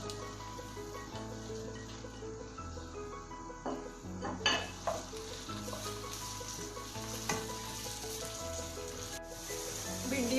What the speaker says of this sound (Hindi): ऑयल में हम भिंडी को फ्राई करेंगे।